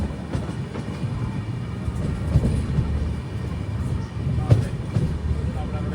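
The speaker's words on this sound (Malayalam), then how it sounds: "ട്രെയിൻ ഇപ്പോൾ ഡിണ്ടുഗൽ ജംഗ്ഷനിലേക്ക് ഇതാ എത്തുകയാണ്" The Navyug Express sleeper train pulling into Dindigul junction, a steady low rumble with scattered clacks and knocks, heard from on board.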